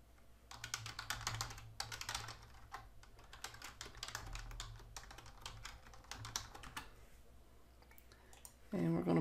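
Password being typed on a computer keyboard to log into a Google Classroom account: a steady run of light, quick key clicks, close and fairly quiet, ending in a louder thump.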